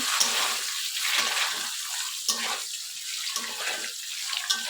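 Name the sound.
eggs frying in a pan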